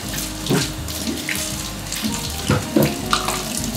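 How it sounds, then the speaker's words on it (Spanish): Tap water running over a white onion in a kitchen sink, a steady close splashing stream broken by louder gushes as the onion is turned under the flow. "vamos a lavar la cebolla blanca"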